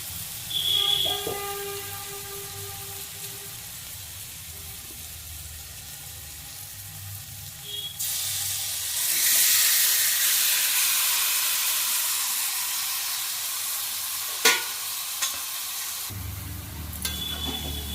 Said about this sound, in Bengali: এবার আমি মাংসটা এর মধ্যে দিয়ে দেবো।